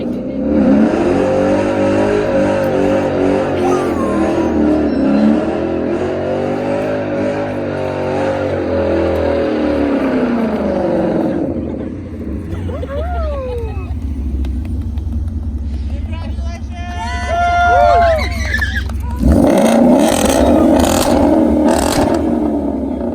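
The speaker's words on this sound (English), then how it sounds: "We did a great burnout." A Ford Mustang doing a burnout: the engine roars and revs hard and close for long stretches, with tire squeal, then drops to a lower rumble while people shout and talk, before surging loud again.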